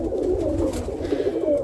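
Roller pigeon cocks in a loft give a steady low cooing murmur, several birds overlapping in a continuous soft drone with no talk.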